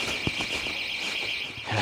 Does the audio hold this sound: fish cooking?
no